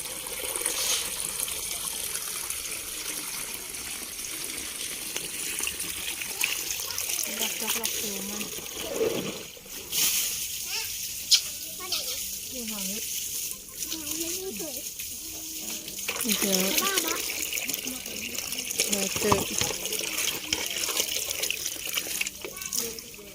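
Water splashes and trickles from a tap as termite mushrooms are washed, with uneven pours and gushes that rise and fall over the whole stretch while a person talks throughout.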